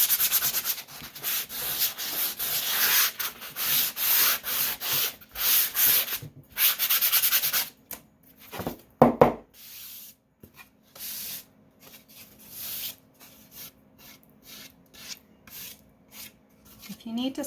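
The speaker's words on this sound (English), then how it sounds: "I'm going to give these sides a quick sand." A foam sander rubs back and forth along the edges of a wooden decoupage stocking, producing close, rhythmic scratchy strokes that slow into brief intermittent rubs, with no voices.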